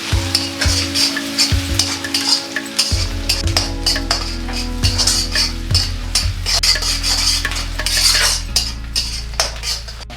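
Green chili and ginger paste fries in a pan for a Rayalaseema uggani bajji, with a steady sizzle and repeated scraping and clinking of a spoon stirring against the metal, close and continuous, with no talk.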